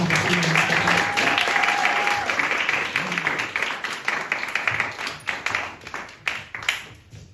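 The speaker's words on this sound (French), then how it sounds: "est-ce qu'on peut applaudir Elie André qui va venir nous apporter" An audience at a youth meeting applauding a speaker, a dense wash of clapping that starts loud and thins out over several seconds. Scattered voices and sharp individual claps are heard toward the end.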